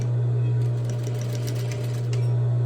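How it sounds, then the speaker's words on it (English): A sewing machine stitching across the layered corners of a tote bag at a half-inch seam, a steady motor hum with fast needle clatter running continuously and close. "And I'm going to stitch it at 1/2 inch."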